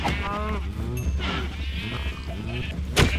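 Minecraft sheep bleat over and over in a loud, close cluster of overlapping wavering cries, with a little game noise underneath and someone talking through part of it.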